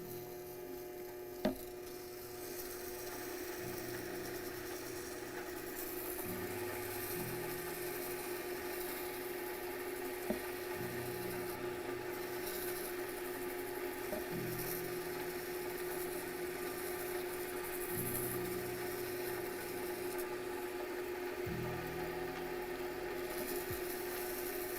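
Steady, rasping wet-sanding of a handmade ring with fine sandpaper, repeated back-and-forth strokes in even rhythm, close and fairly quiet, with a couple of brief knocks.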